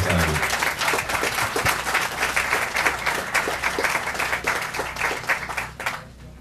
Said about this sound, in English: give some a round of applause for Main Street and their team and Morgan Stanley